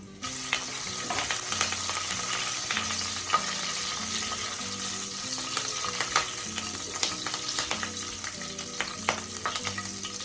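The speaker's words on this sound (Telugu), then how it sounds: "కరివేపాకు ఇలా చిటు చిటుపట్లు ఆడిపోయింది కదా" Crushed garlic and fresh curry leaves splutter in hot oil with a loud, dense crackle and constant popping, and a faint tonal backing runs beneath it.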